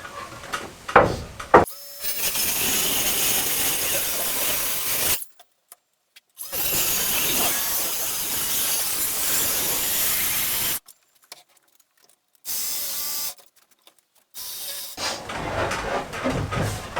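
Circular saw cutting down through a wooden board while building a compost toilet, heard in several loud, steady bursts of whining cutting noise separated by brief pauses and silences.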